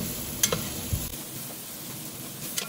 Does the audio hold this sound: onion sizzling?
yes